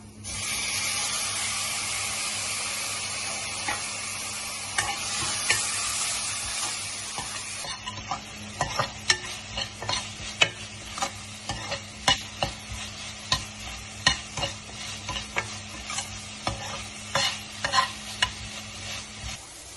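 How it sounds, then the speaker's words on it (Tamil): Onions sauté in a pan for vegetable kurma, a steady sizzle at first that gives way to repeated scraping stirs against the pan, close and fairly faint with no voices. "வெங்காயம் வதங்கினதுக்கு அப்புறம் தக்காளி சேர்த்துக்கலாம்."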